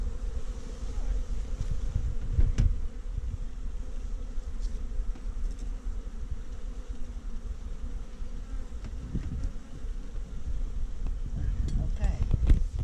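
Iberian bees swarm at their hive in a dense, steady buzz that fills the whole stretch, with a faint hint of wind at the microphone.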